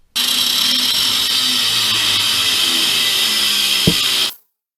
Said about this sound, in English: So I'm going to cut 4 pieces out of this.